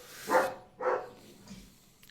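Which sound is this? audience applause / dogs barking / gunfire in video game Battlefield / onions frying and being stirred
dogs barking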